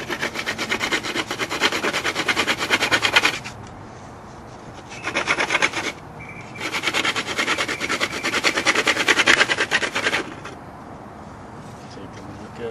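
A wooden atlatl dart shaft spun on a drill bit to ream its end gives a raspy whirring rub in two long bursts separated by short pauses, close and fairly loud.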